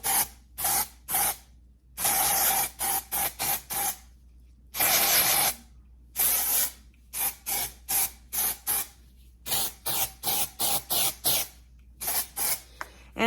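Dry shampoo sprays onto a wavy gray wig with rooted color in a rapid series of short, loud hissing bursts from an aerosol can, a few longer blasts among them, all heard up close with no talking.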